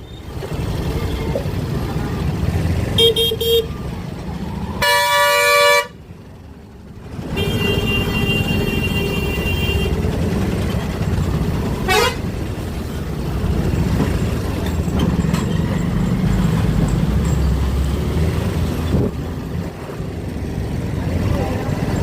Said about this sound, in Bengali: প্রচুর পরিমাণে ট্রাফিক আছে প্রচুর